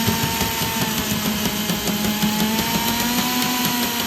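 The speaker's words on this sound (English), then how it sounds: "We got this tool on Amazon. It whips right through it." A drill-powered wire cutter whirs steadily with a high motor whine, cutting through wire with a continuous grinding buzz and small rhythmic pulses, no voices.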